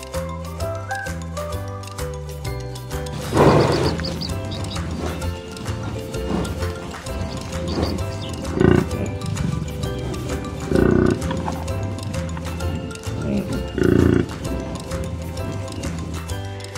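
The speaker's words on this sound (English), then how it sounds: "B for buffalo." A buffalo gives four or five loud, rough bellows at intervals over continuous background music, with no talking.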